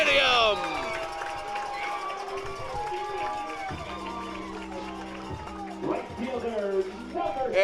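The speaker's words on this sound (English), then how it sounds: "And this crowd, once again in a frenzy." A baseball stadium crowd at a championship final roars and cheers in a sustained wave of noise, with a commentator's voice talking over the din.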